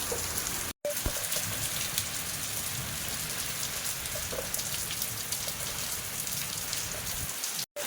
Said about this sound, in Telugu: నైట్ అయితే ఫుల్ రెయిన్ పడుతుంది